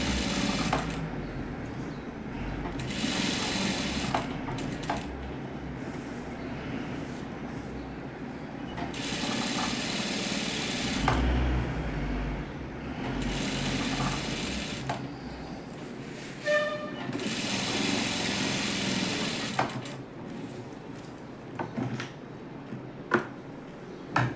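A sewing machine stitches canvas to lining fabric in bursts of rapid mechanical clatter, running several seconds at a time with short pauses and small clicks between runs.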